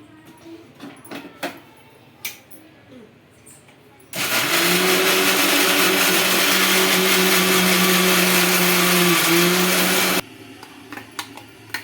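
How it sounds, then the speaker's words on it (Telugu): A mixer grinder whirs steadily for about six seconds, blending roasted peanuts with salt and water into chutney, loud and close, then cuts off abruptly, with faint kitchen knocks before and after. "ఇంకా వాటర్ వేసుకొని మిక్సీకి వేసుకుందామండి పచ్చడి చట్నీ అయితే"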